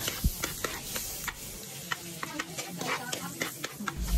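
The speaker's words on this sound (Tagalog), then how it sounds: "Ibutang na ang loya, mekos kay pinaka-importante jud ni pampawala sa langsa." Ginger being stirred in a hot pan for goat caldereta, sizzling steadily with repeated sharp clinks and scrapes of the spoon against the pan, close up and with no talking.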